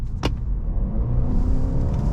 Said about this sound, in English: I'm not sure if you guys can hear it, but I'm gonna floor it